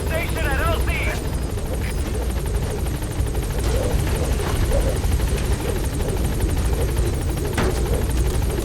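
Pequod helicopter in the video game Metal Gear Solid V: The Phantom Pain, a loud steady rotor thump and turbine whine holding station at a landing zone, with radio voice and game sounds over it.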